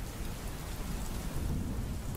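Steady rain falls outside a cave in a dense, continuous hiss with a low rumbling undertone, evenly loud throughout and free of speech.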